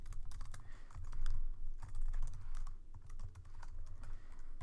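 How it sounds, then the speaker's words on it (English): Rapid clicking of a computer keyboard during Java coding, dense irregular keystrokes clattering nearby throughout, heard alone with no voice. "My typing is really bad."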